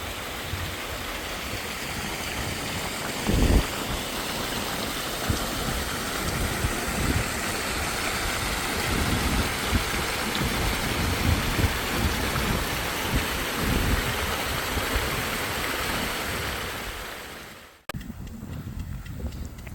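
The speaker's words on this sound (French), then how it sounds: "Qu'est-ce qu'il y a comme ruisseau de montagne ici?" A mountain stream in the Alps near the Great St Bernard Pass rushes with a steady, broad roar of flowing water for most of the time, then drops off abruptly near the end, with no talking.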